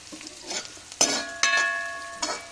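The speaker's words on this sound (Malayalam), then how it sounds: "എന്നിട്ട് കടുക് പൊട്ടിച്ചിട്ട് നമുക്ക് ഈ പറഞ്ഞ കൂട്ട് അതിലേക്ക് ഇടാം." Mustard seeds and onion frying in sunflower oil for a pumpkin curry tempering give a steady close sizzle, broken by three sharp metallic stirring knocks against the pan that ring briefly, with no voices.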